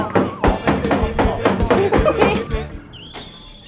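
A container being tapped while cooking a spicy mixed salad, several quick dull knocks in an uneven rhythm, close and fairly loud, with chatter and laughter among them.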